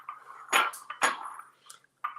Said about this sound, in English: So we got a tablespoon measurement.